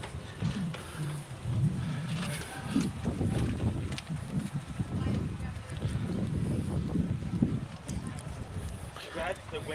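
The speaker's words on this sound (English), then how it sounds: "Glad the wind has picked back up." Wind gusting outdoors at Epcot, a steady broad rumble with buffeting against the microphone that rises and falls throughout, with faint speech from people nearby.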